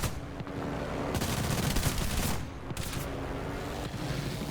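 Machine guns fire in War Thunder aerial combat involving a P-36G fighter, in dense sustained bursts with a short break partway through, over a constant engine drone.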